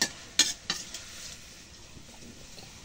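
Oil sizzling in a pan with ginger while cooking greens: a soft, steady frying hiss with a few sharp metallic scrapes and clinks of stirring near the start, then settling into quieter sizzle.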